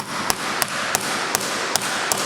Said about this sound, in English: And then you just tap it in.